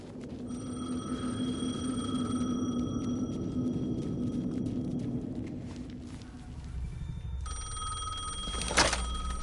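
An old-style telephone bell rings steadily in the game Alan Wake 2, set over a low droning ambience, then falls quiet before a brief louder clatter near the end.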